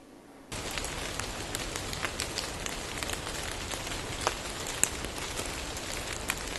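Steady rain patters on a surface after a brief quiet start, a dense hiss with scattered sharper drops and no voices.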